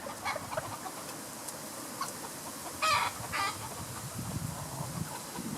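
A rooster newly added to a backyard flock crows in a short outdoor burst midway, amid soft clucking from nearby hens and light ambient noise.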